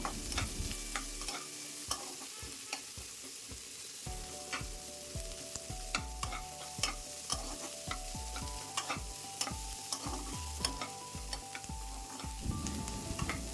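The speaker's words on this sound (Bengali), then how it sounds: "কেটে রাখা পেঁয়াজ কুচি তেলের মধ্যে দিয়ে দেব তারপর রসুন লঙ্কা কুচির সাথে পেঁয়াজ কুচিও খুব ভালো করে নাড়াচাড়া করে মিশিয়ে নেব" Chopped onion, garlic and green chili frying in oil for a Bengali bhetki fish vorta, heard as a continuous close sizzle with repeated sharp spatula scrapes and knocks as the pan is stirred, with no talking.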